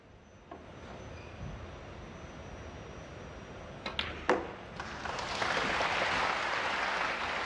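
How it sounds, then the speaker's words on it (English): A snooker audience breaks into applause after a decisive frame, the clapping swelling from scattered claps into a sustained, moderately loud ovation in a hall. "The applause will also tell him."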